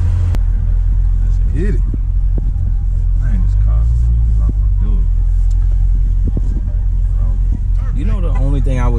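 A 2019 Dodge Challenger R/T Scat Pack Widebody drives with a deep, loud engine rumble close by, rising and falling steadily as it moves. People talk over the engine throughout, with one brief rev near the end.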